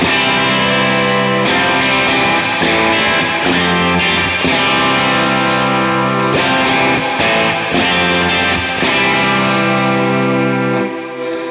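An electric guitar played through effects pedals with reverb and delay for a praise and worship tone, its sustained, layered chords loud and continuous, changing every few seconds and ringing out at the end.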